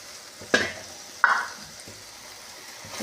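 An egg is dropped into a spiced masoor lentil tarka with cooked-down masala and oil, giving two sharp bursts of sizzling that fade into a soft, low frying hiss.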